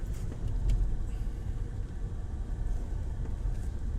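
A car driving on city streets, heard from inside the cabin as a steady low road rumble and engine drone with faint rattles, constant and without talking.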